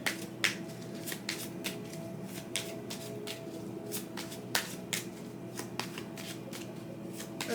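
A Native American tarot deck being shuffled by hand, with steady crisp riffling card snaps repeating close up, with no voices.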